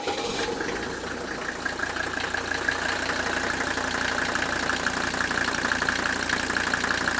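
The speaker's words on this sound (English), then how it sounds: "Now I'm going to reach in the car again and just fire this thing up with a real short glow." A 1983 Mercedes 300 diesel engine cranks and catches after a short glow, then settles into a steady rattling, knocking diesel idle, close and continuous throughout.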